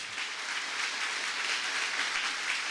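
A church congregation claps hard and continuously, a thick, even roar of applause holding at full strength throughout.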